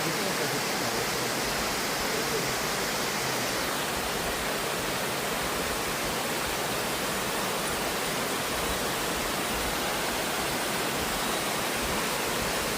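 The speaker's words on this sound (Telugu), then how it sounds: "ఇదిగో ఫస్ట్ లేయర్ అయితే ఎలిఫెంట్ ఫాల్స్." Elephant Falls in Meghalaya, the first tier of a multi-layered waterfall, roars as a dense, unbroken wash of falling water, steady and loud throughout with no voices.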